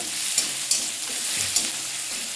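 Leafy greens fry in a pan with chopped onion, garlic, chilli and two dried red chillies, giving a steady broadband sizzle broken by a few sharp utensil taps and scrapes, close and fairly loud.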